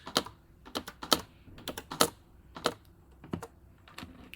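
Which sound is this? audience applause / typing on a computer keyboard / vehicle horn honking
typing on a computer keyboard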